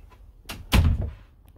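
A household door moving and closing with a short rattle, then a heavy thump, close and fairly loud, alone and without talk.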